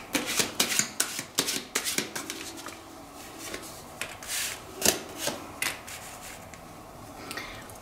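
Tarot cards are shuffled close up, with quick flicking riffles at first and then softer, scattered rubbing and slaps, with no talking.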